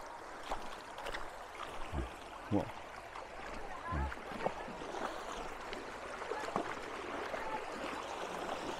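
A river in Bicol flows steadily with broadband rushing and gurgling water close by, while people talk intermittently over it.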